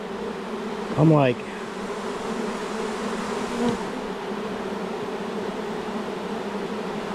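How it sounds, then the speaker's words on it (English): A huge mass of honeybees, twelve pounds of them being installed into a HiveIQ beehive, droning in a steady close buzz, with a voice briefly speaking over it. "There are so many flipping bees in here."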